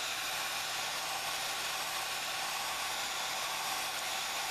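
Low-setting hot air blower drying a painted rock for a Christmas wreath craft, a steady continuous airy hiss at moderate level with no other sounds.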